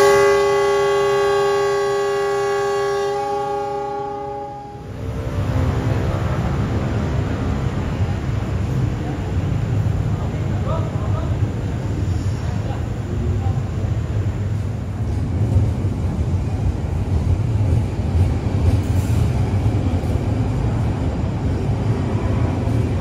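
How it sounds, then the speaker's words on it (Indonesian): Argo Anjasmoro passenger train approaching a station from the north toward track 1, a long tonal horn blast that gives way to a loud, sustained rumble and roar building close by. "Dari arah utara sudah nampak sorot lampu kereta Argo Anjas Moro"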